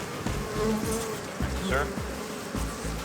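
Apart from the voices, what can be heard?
swarm of killer bees buzzing at hive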